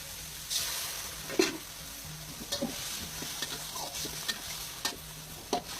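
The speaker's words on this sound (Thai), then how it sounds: "ใส่น้ำซุปลงไปนิดนึง" Soup stock is splashed into a stir-fry of pork and black pepper in a hot pan, a steady sizzle broken by a few sharp scraping stirs and clinks of the utensil, close and fairly quiet.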